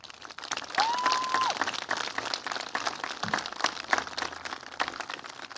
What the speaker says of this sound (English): please give a huge round of applause and love to your Sierra Canyon teachers